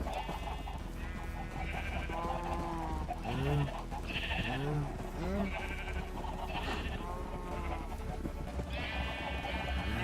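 Blocky sheep in Minecraft bleat several times in short wavering calls over a steady game background, with a voice talking along with them.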